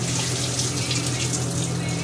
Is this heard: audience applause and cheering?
no